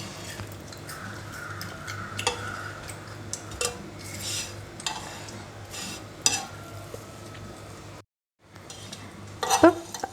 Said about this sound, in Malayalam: അതേപോലെ ഉള്ള ബ്രെഡ് സ്ലൈസ് മൊത്തം കൂടി നമുക്ക് ഇങ്ങനെ ഫ്രൈ ചെയ്തങ്ങ് എടുക്കാം.